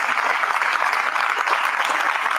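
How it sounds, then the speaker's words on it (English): Steady applause from a crowd, a dense wash of clapping that holds evenly for a couple of seconds. "Let's give her a round of applause."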